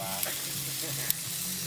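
Food sizzling and frying in a hot pan with a layer of fat, a continuous crackling hiss with a couple of sharper pops, close up, with no talking.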